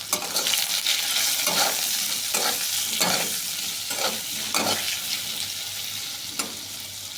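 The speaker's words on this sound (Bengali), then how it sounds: "আলুটা একটু ভেজে নিই।" Potato pieces frying in a pan with salt and turmeric, a continuous sizzle broken by several distinct scrapes and stirs of a spatula at irregular intervals.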